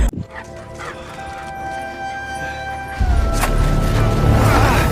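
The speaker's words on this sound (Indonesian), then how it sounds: "Atami pun bingung saat mendengar suara anjing kesayangannya" A pet dog barking and whimpering nearby, with short yips and cries over a busy background, and the sound grows louder and denser in the second half.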